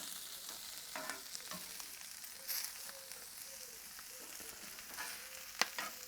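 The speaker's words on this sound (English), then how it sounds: "Right, we're going to flip all these lovely potatoes." Potatoes are flipped on a hot cast iron surface on a Kamado Joe Classic II grill beside a ribeye steak, with a soft steady sizzle and occasional scrapes and taps of turning, quiet and without talk.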